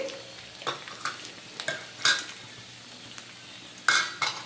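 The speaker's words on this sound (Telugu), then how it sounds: "తాలింపు గింజలు కొంచెం వేగగానే ఎండుమిరపకాయలు వేసేయండి" Mustard seeds and dried red chillies crackle in hot oil for a tempering, with sharp scattered pops and spits over a low, steady sizzle, close by.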